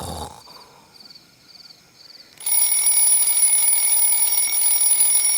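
An alarm clock gives several short chirping beeps in a quiet room, then bursts into a loud, continuous electronic ringing that holds steadily to the end.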